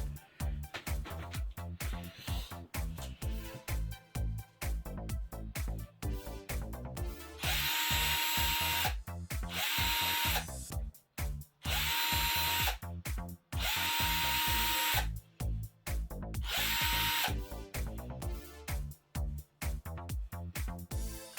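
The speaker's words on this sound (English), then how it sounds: "I'm just going to drill them out a little bit anyway" A power drill whirs in several sustained bursts with short pauses between, grinding out excess plastic on an RC shock up close, with rattling handling noises in the gaps.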